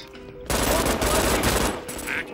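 A machine gun nest in the video game Brink opens up after a brief lead-in, sustained loud rapid automatic fire filling the remainder without pause.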